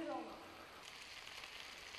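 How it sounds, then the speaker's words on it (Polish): Bell pepper sizzles steadily in a hot pan, a soft broadband hiss that briefly follows a voice at the very start. "Dobra, papryka niech się tutaj nam smaży."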